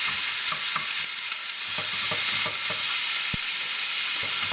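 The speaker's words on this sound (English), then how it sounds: "we're going to fry off half a kilo of minced beef first in some good olive oil" Half a kilo of minced beef sizzles in olive oil for Bolognese ragu, a constant bright frying hiss broken by scraping stirs and a sharp knock of the spoon against the pan.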